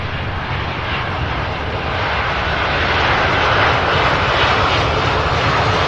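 A UPS cargo jet lands at Louisville airport, its engines producing a loud, broad roar that swells steadily as it passes close, with no talk over it.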